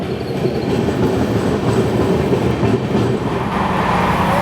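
Visakhapatnam–Mumbai LTT SF Express train running, a steady loud rumble of wheels and rattling coaches with faint clickety-clack throughout, heard from inside a nearly empty coach.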